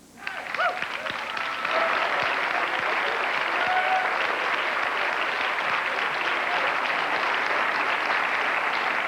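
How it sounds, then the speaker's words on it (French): A live audience in a Saint-Hyacinthe college hall claps in sustained applause that swells within the first two seconds and holds dense and steady to the end, with no voice over it. "je demanderai aux gens de Saint-Hyacinthe de les applaudir, ceux que vous voyez sur le plateau"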